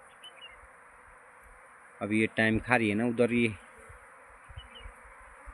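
A swarm of honeybees leaving two hive boxes one after another makes a steady, dense buzzing that runs throughout, while someone talks briefly over it midway.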